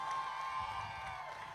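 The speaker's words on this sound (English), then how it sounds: "Give her a round of applause" A crowd at a live music awards show in Zimbabwe applauds and cheers for the host, a brief, dense burst of clapping and voices that stays steady throughout.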